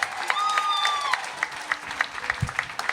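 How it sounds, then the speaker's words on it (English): An audience applauding a comedian's entrance, a crowd of claps with distinct, sharper individual hand claps popping out in an uneven rhythm, along with a brief whistle-like tone near the start. "This is where you start applauding"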